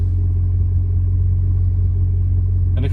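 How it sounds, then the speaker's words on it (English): An Audi V8 engine idles close by with a steady, deep burbling rumble, even and unbroken throughout, ending with a brief noisy rustle. "listen to that engine. I know. It's just burbling sweetly, isn't it?"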